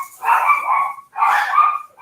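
Dogs barking indoors, two loud bursts of barking about a second apart, each a cluster of rapid yips and barks, close to the microphone with no talk.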